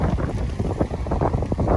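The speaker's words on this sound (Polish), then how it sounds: "No i wiatr. No ale wiatr musi być" Wind blowing at the Uroa Bay beach resort in Zanzibar, a continuous loud gusty rumble buffeting the microphone throughout, with no voices.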